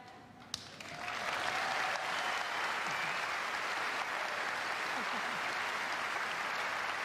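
Applause for the performers at a live Eurovision Song Contest 1997 broadcast, a dense sustained clapping crowd swelling in after a second and holding steady and loud to the end.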